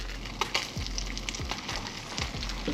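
Fish cakes searing in a hot pan give a close, continuous sizzle with a few small pops and faint scrapes.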